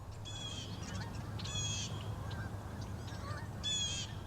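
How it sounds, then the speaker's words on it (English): Canada geese honking at a fall migration resting spot on a river island, repeated nasal calls from several birds at moderate distance over a low, steady background rumble. "Thousands of Canada geese congregate here in the fall, before many migrate south for the winter."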